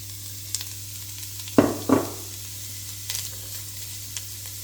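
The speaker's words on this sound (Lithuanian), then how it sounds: "Morkytės kepsime ant aliejaus." Carrots fry in oil in a pan, giving a low, steady sizzle under a constant hum, broken by a few sharp utensil clanks near the middle.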